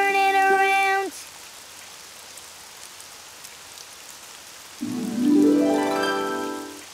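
Rain falls outside in a steady soft hiss through the middle, framed by bright tuneful music or singing at the start and end.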